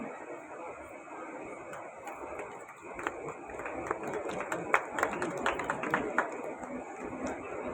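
At a village community service association's 75th anniversary celebration, an audience breaks into scattered clapping that thickens into moderate applause, heard at some distance over a murmuring hall.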